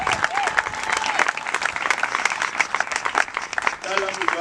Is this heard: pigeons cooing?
no